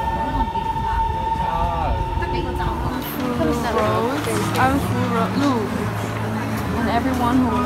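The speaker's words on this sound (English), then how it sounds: "we are waiting for our metro to arrive in 1 minute" A Shanghai metro train rolls into a station with steady rumbling and rising and falling electric whine, under a busy platform with people talking throughout.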